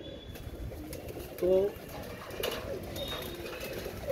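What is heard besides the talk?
pigeons cooing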